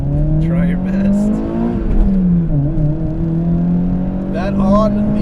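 A 2ZZ-swapped Toyota MR2 Spyder with a 5-speed is driven hard. The engine pitch climbs and dips through high revs, loud and close, with brief whirring and squeal-like bursts.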